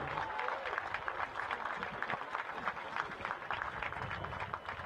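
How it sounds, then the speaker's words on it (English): Sustained audience applause for Hall of Honor inductees at a college football game broadcast, steady dense clapping throughout with no break. "please give each of our inductees another round of applause"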